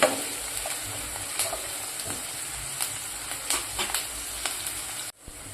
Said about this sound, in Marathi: मी थोडीशी वाढवले तर कांदा पण आपला छान भाजतो.